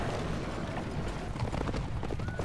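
Cavalry galloping in Battle for Middle-earth II: The Rise of the Witch-king, a dense steady rumble of many hoofbeats blending into a continuous clatter over battle noise for the whole stretch.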